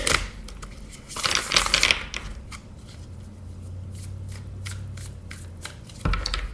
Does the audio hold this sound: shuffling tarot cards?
yes